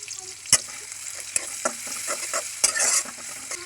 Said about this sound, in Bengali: এখন ভেজে নিব এটাকে